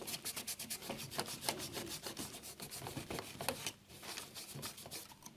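Abrasive paste cleaner being rubbed onto a NordMende Elektra 58 radio chassis, a quiet, close scrubbing rasp in quick back-and-forth strokes with a brief pause.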